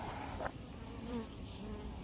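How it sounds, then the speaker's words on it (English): Bees buzz around an open beehive, a faint continuous drone with a few passing insects flying close, no talk. "Here's a bee getting ready to sting me. I can just tell by the way he's flying."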